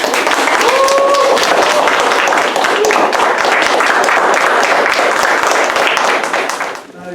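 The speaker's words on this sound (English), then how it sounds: "And clap it up as they come up here." Audience applause at a community arts and creative writing event, loud, dense and continuous clapping from a crowd for about seven seconds before tapering off, with some voices and cheers mixed in.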